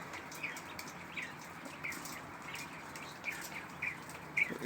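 40-day-old quails chirp in a cage in short, high bursts over a steady hiss, with a few sharper tweets standing out near the end.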